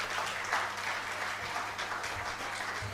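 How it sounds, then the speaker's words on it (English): Applause from the audience at a women-in-ADR networking event for a speaker, a steady, moderately distant patter of many hands with a low background hum and no speech. "Let's give a round of applause to Mercy Okiro."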